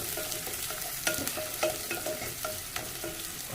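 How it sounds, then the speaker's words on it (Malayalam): Shallots and ginger frying in a pan make a close, steady sizzle, broken by scraping stirs and soft clinks of the spoon against the pan, with no one talking. "ഇഞ്ചിയും ചുവന്നുള്ളി ഇട്ടെടുത്തിട്ടുണ്ട്. കുറച്ചൊന്ന് ചുവന്ന് റെഡിയായി വരട്ടെ."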